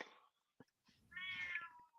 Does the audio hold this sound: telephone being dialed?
no